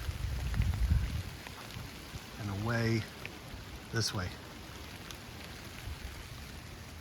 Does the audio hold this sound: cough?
no